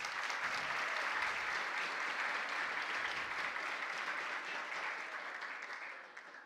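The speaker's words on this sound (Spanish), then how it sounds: "dándole un fuerte aplauso" Audience at a regional national oratory contest in Los Santos province gives strong, sustained applause, a dense wash of clapping that holds steady and then gradually thins out.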